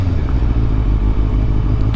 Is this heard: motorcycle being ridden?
yes